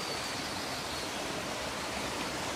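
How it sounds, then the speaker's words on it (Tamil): Steady rushing of flowing water, a soft continuous wash with no breaks and no voices. "தண்ணி எப்படி சில்லோட்டமா போயிட்டு இருக்கு"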